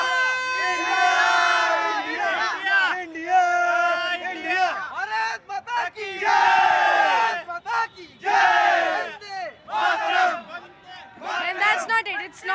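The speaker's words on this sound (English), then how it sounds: "Can we have cheer for Team India?" Cricket fans at a stadium cheer and chant loudly for Team India ahead of an India versus Pakistan match, with repeated bursts of massed voices and whoops rising and falling close by.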